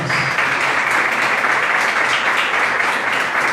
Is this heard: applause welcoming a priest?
yes